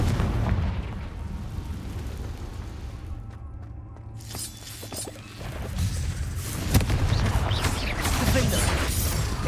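Confringo explosion spells cast in the Hogwarts Legacy video game, inside a cave: a sharp shattering blast breaks out of a low rumble, followed by loud booming bursts and crashing debris over continuous background music.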